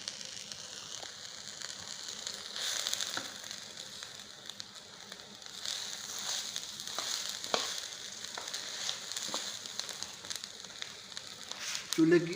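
Bird seed mix being stirred with syrup in a heated pan on a stove, giving a steady, soft sizzling crackle with scraping and stirring throughout, and faint speech in the background.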